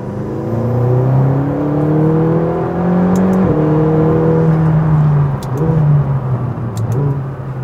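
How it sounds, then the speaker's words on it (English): A McLaren sports car engine in sport mode with its exhaust valves open gives a deep, rumbling drone, rising and falling through several rev changes, loud and close with no talk over it. "when you put it into sport mode and it opens up those valves"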